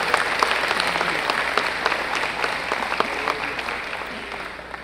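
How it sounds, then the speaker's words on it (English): An audience at a children's award ceremony applauds honorees, sustained full clapping from a sizable crowd with sharper individual claps poking through, steady throughout and tapering a little at the close. "Let's give them another round of applause for the dedication to improving outcomes for children."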